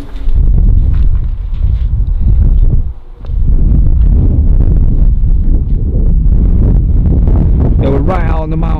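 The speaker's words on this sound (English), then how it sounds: "Sit around the side. so we're blocked by the wind a bit." Wind blowing outdoors at night buffets the microphone as a steady low rumble throughout, with a brief lull partway; people talk over it.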